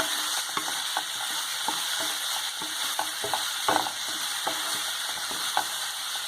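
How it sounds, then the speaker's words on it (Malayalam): Chilli powder is stirred through a soya chilli mixture in a hot frying pan: a steady sizzle runs underneath while a spatula taps and scrapes the pan at frequent, irregular intervals, close by and with no voices. "ഇളക്കി കൊടുക്കാം."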